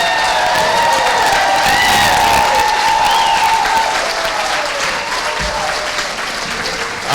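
A large audience at a Hall of Fame ceremony applauds the 1998-99 men's basketball team with loud, sustained clapping and scattered cheers and whoops that carry on for several seconds before easing slightly.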